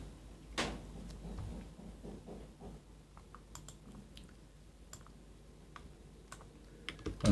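Close computer keyboard typing during spreadsheet work, with scattered, irregular key taps and a louder thump early on, and no talking.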